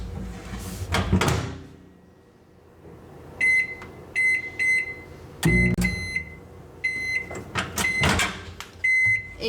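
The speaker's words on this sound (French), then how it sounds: "ça dépend de la force de votre micro-ondes" A microwave oven warming milk for a vegan cinnamon brioche: a couple of door or handle clunks, then a faint steady hum and several groups of sharp, bright electronic beeps, up close.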